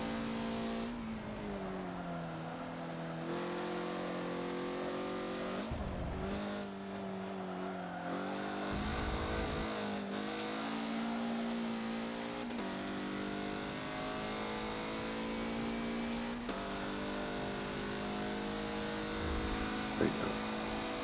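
Race car engines roar continuously on the Suzuka West circuit in Forza, with revving that rises and falls through gear shifts and a brief tire squeal, while someone talks over the engine noise.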